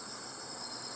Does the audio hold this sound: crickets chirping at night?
yes